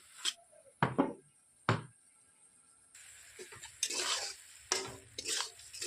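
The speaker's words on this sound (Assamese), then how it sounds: "এইখিনি অলপ ভাজি লৈছোঁ" Lentils being lightly fried and stirred in a pan, with irregular scraping and clattering strokes of a spoon against the pan over a soft, steady sizzle, close by and moderately loud.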